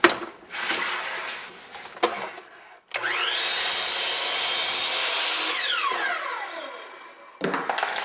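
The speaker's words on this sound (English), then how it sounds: "Now we're ready to cut the baseboard." A power saw cuts a wooden baseboard for wainscoting trim: the motor whines up and holds a loud, steady cutting roar for several seconds, then winds down, with brief handling knocks before and after.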